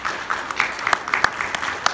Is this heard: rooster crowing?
no